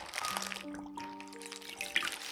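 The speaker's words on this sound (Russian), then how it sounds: "Затем хорошо отожмите пергаментную бумагу от лишней воды." Water drips faintly from wet parchment paper that has been wrung out, making a few soft, scattered drops in a quiet indoor room.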